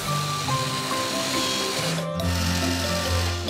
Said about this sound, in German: Bagger, kannst du uns bitte helfen? Hier musst du graben.